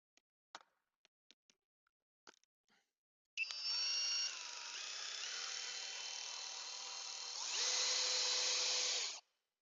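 Cordless drill driving a DW2 drill-winch counterclockwise, a few sharp clicks and knocks giving way to a loud, sustained whining motor run that rises in pitch and intensity near its end before cutting off abruptly.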